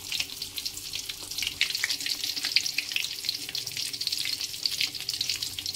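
Crispy tofu stuffed with potato and egg fries in hot oil, giving a steady, close crackling sizzle with dense bursts of spitting that carry on without pause.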